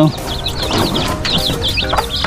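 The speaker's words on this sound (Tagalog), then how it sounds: "Mayroon po siyang 8 sisiw." A mother hen with her eight chicks clucks in a poultry pen, soft repeated clucks mixed with high chirping peeps from the chicks, close by, while a person talks over them.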